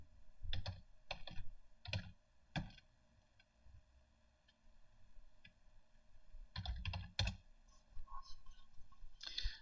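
Quiet keystrokes on a computer keyboard come in two short bursts of several quick, close taps, separated by a pause, with no one speaking.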